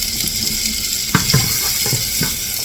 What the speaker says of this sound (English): Bacon grease and onion frying.